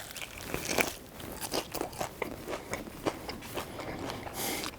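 Biting into a batter-fried smoked chicken wing gives a string of sharp, close crunches and crackles in an irregular rhythm, moderately loud with no talking.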